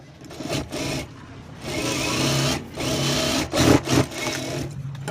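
A sewing machine stitches thread piping onto the underside of the main cloth. The motor whirs loudly and close in several bursts of a second or so, each separated by short pauses.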